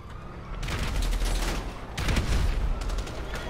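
Grand Theft Auto V video game gunfire arrives as rapid bursts of shots in three clusters, loud and fairly close, with a dense rumbling low end and no speech over it.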